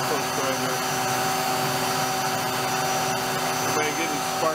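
A tool post grinder with a not very stiff spindle runs steadily at high speed, a constant close motor whine with a few faint scrapes and ticks.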